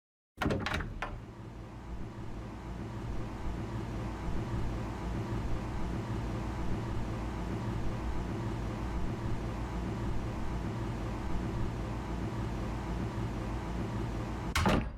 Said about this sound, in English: Let's use a timer to measure the time between the door opening and closing.